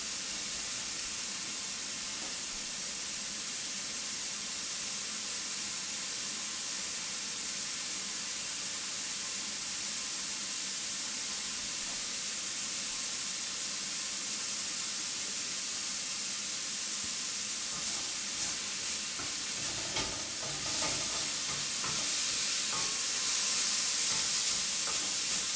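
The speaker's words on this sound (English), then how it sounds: "so now we're just sauteing in oil" Eight large Brussels sprouts sauté in oil in a pan, giving a steady, even sizzle and hiss that runs the whole time, with a brief stirring clatter near the end.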